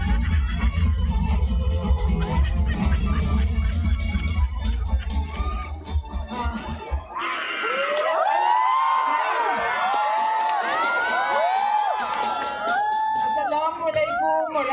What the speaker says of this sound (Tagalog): Pabayaan mo na sumigaw ang tao